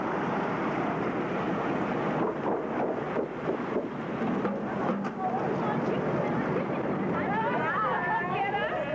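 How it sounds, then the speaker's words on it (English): Steady rush of a mail-delivery boat moving through water, engine drone and wind buffeting the microphone, with faint voices near the end. "The boat slows down just a little."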